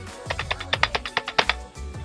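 Several enter key presses on an NYK Nemesis K-01 mechanical keyboard after more than a year of use, giving a short run of sharp, close clacks with no voice.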